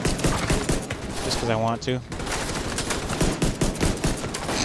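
Pistol gunfire in the video game The Division 2, a rapid string of sharp shots heard close, with a brief pause while a voice speaks over the firing.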